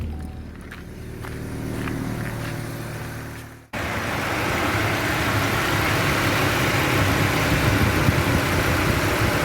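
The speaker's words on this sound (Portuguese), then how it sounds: "Vou ligar o carro agora." A Chevrolet Spin or Cobalt engine with the hood open cranks and catches after a brief pause, then settles into a loud, steady idle heard from close by.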